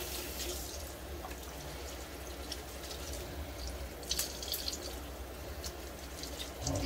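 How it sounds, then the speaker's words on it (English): Tap water runs steadily while a boar-bristle shaving brush is rinsed by hand under it, a continuous close splashing hiss with small irregular spatters and no talking. "Clean out my brush, usually in my hand under running water."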